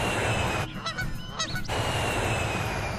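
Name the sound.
geese honking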